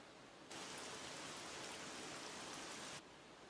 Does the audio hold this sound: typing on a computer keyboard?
no